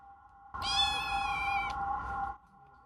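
A rescued shelter cat gives one long, loud meow lasting about two seconds, clear and close against a quiet background.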